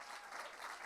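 Studio audience applause during an interview with a singer, a short, continuous burst of many hands clapping, faint and even throughout.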